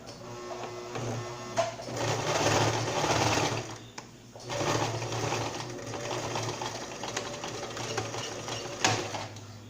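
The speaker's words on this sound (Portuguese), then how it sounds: "Você posiciona aqui e vai costurar o cabelo assim, ó." A sewing machine stitching strips of doll hair onto a beginner's cloth rag doll, its motor whirring in two long runs separated by a brief pause, close and steady with no talking.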